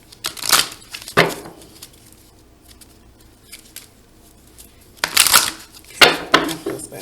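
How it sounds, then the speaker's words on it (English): Tarot cards being shuffled by hand in a quiet room, a few short crisp bursts of riffling and patter separated by near silence, close and fairly soft, with no talking. "let me get us a good shuffle"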